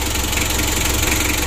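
A freshly overhauled 2017 Mitsubishi L300 diesel engine idles while warming up, giving a loud, steady, close-up rumble with a faint rhythmic clatter and no pauses.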